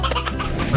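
Hen clucking in the video game Slime Rancher, one short, loud, close cluck over a dense game background.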